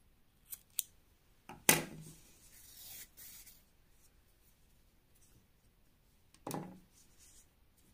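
Scissors snip through crochet yarn in a couple of close, sharp cuts, with faint handling rustles and quiet gaps in between.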